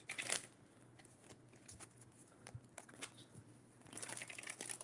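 Tarot cards being shuffled close up in quick riffling bursts, soft papery flutters at the start and end with lighter shuffling in between.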